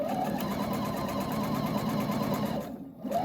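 A sewing machine stitching a seam across a rainbow sampler quilt block, a close, steady mechanical whir with a rapid needle rhythm that cuts out briefly near the end, then starts again.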